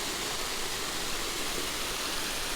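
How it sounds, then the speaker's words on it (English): A steady, hissing rush of water trickles from turned-down valves at a pond-side cove, an even broadband flow close by with no talking. "It's enough of a trickle"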